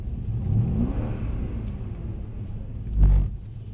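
A Mercedes C63 AMG slides on a skid pan, its engine rumbling steadily before a sharp, loud throttle blip roars up near the end and quickly drops back.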